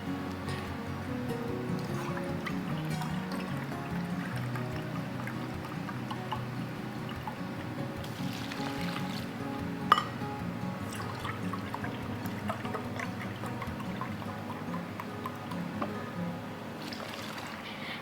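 Chicken broth is poured into freezer meal containers, giving a faint, continuous trickling splash. There is one small sharp knock partway through, and the splashing stays soft from start to finish.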